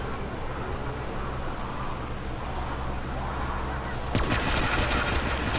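An LMG in Black Ops 3 zombies on the Moon map opens up late with a rapid, loud burst of machine-gun fire that cuts through a dense, steady background of game noise.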